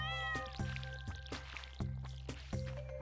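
A cat meowing in the farming game Stardew Valley, one drawn-out meow at the start followed by repeated short plinking game effects over a steady low music drone, close and clear with no talk.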